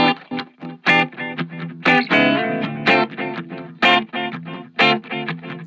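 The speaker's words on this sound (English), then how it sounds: "Tube tape echo." Electric guitar run through a tube tape echo effect: a distorted, rhythmic strummed phrase with tape repeats smearing between chords, loud and close, no talking.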